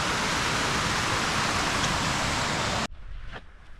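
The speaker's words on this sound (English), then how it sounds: "you have a very loud waterfall as your neighbor" Loud, steady rushing water roars like a close waterfall, then cuts off abruptly, leaving faint background sound.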